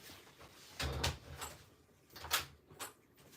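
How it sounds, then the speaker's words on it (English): A back door is opened to let a dog in from outside, producing a few soft, quiet knocks and rattles spaced over a few seconds. "I think Stark's also at the back door, so hold on."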